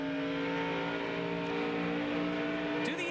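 ARCA stock car engine droning at Pocono, a continuous steady roar of racing motors at speed, with a faint screech near the end.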